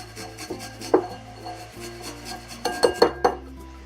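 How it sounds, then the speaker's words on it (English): Garlic grated on a microplane over a serving bowl: quick, close rasping strokes with light metallic scraping, clustered in short bursts with brief pauses between. "I have a microplaner. And I'm going to just grate this right over the serving bowl."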